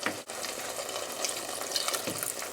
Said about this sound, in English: Also we are going to add some water because of the boiling.